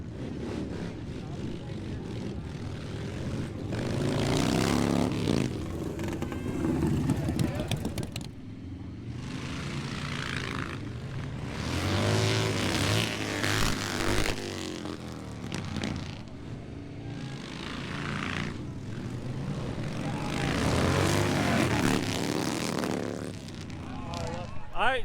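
Chopper motorcycles drag racing at the Born Free Texas show, repeated loud engine roars surging through revs and gear changes in several bursts, with crowd voices and talk in the background.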